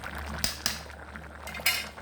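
A spoon stirring chicken and potato curry in a metal cooking pot, giving three distinct clinks and scrapes against the pot over a low, steady background.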